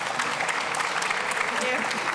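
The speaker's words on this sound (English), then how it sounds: "give my guests a wonderful round of applause for their talk today" An audience at a talk on dinosaurs breaks into steady, dense applause, many hands clapping together in a continuous close wash of sound.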